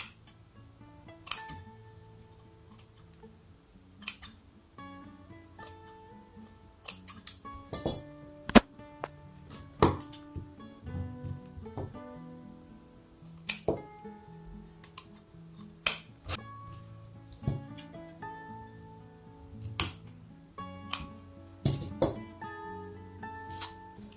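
Sharp, close snips of scissors cutting fabric to make a halter neck, recurring at irregular intervals with short pauses, some crisp clicks and light handling noises in between.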